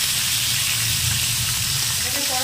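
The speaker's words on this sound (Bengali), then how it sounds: "এই মাছটা কিন্তু হালকা ভাজা হবে" Pomfret marinated in salt and lemon fries lightly in refined oil in a pan for a Bengali coconut fish dish. The close sizzle is a steady, even hiss with no breaks.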